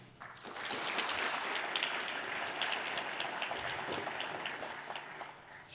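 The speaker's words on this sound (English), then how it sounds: "So another applause for Hao." Conference audience applauding a speaker at a space resources event, a dense, steady clapping from a full room, moderately loud and lasting several seconds with no voices over it.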